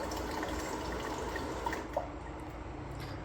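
Hot water running from a tap into a cup, a soft steady trickle and splash with a couple of faint drips, fairly quiet and with no talking.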